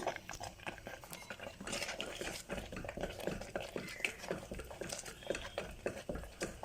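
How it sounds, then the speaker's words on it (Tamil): A spoon works a thick millet flour kali dough in a pan, giving repeated soft scraping and knocking strokes in an uneven rhythm, close and fairly quiet, with no voice over it. "கொஞ்சம் ப்ரெஷர் கொடுத்து நல்லா மிக்ஸ் பண்ணிக்கோங்க"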